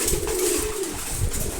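Male pigeons coo low and steadily while feeding, a close, continuous murmur of soft throaty calls with light background rustle.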